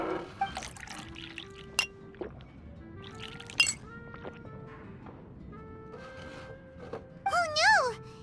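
Glasses clink together in a toast in the video game Genshin Impact, with liquid pouring and light glassy chinks scattered under music and game sounds.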